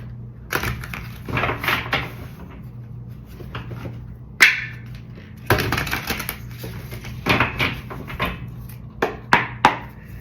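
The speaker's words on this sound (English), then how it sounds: "Let me just shuffle it from the Spirit Animal Oracle deck." Rapid, papery riffling and tapping of an oracle card deck being shuffled up close, in several uneven bursts separated by short pauses.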